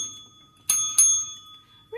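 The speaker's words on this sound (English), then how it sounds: "ringing the bell for a real smile." A small bell, tagged as a bicycle-style bell, rung twice in quick succession with clear metallic dings and a lingering ring in a quiet room, followed at the very end by a brief snippet of a voice.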